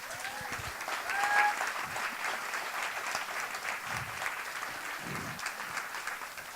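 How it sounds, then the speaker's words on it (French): A studio audience claps steadily for the full stretch, a dense, even wash of applause at moderate level with a brief swell near the start and a few low thumps underneath. "Alors, on les applaudit."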